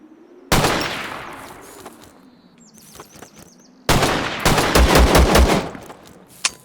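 Gunfire in the video game ZERO Sievert: a loud shot rings out, then a few scattered reports follow, and a dense burst of rapid automatic fire comes near the end, with faint bird chirps in the background.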